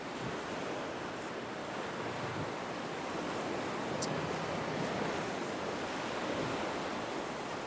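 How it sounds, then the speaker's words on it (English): Rough ocean surf washes in at a beach fishing pier as a steady, broad roar of breaking waves mixed with wind buffeting the microphone, continuous and fairly loud with no voices. "And the waves have been a little rough this week."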